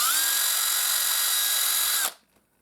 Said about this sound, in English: Start with a small drill bit because it's easier to go through a small drill bit first